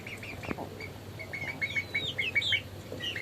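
Young chickens about two and a half months old, bought from a street hawker, kept in a rooftop poultry pen, giving a run of short chirps and peeps that come faster and louder near the end over steady background hum.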